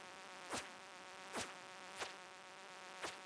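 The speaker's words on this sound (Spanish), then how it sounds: "Si me tengo que quedar así matando avispas de esas" A wasp in the Stardew Valley video game buzzes in four short, evenly spaced passes, each a brief swelling drone above a quiet, faint game background, with no talking.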